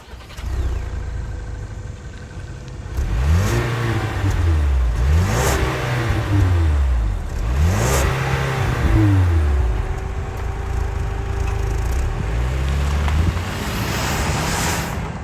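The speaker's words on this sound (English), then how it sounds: "that was the sound of the 2-liter turbo 4-cylinder EcoBoost sold by Ford for the 2024 Edge" A 2024 Ford Edge ST-Line's 2-liter turbocharged four-cylinder EcoBoost engine revs repeatedly, rising and falling in several strong sweeps, loud and close, settling back to idle between bursts.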